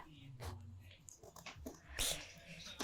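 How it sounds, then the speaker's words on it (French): A small dog indoors in an art studio gives faint, quiet whimpers and snuffling sounds, low in level against a hushed room with soft background murmuring. "il y a un petit chien qui me dérange."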